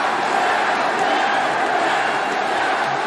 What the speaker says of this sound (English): as you can hear this crowd, well received is this man right here